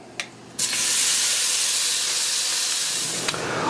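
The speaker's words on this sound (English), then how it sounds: "I'm going to now add 2 more tablespoons of olive oil to our pan. And we're going to cook our meat." Beef strips hit hot olive oil in a pan and sear with a sudden loud, steady hiss and sizzle that holds close and strong after a couple of brief clinks.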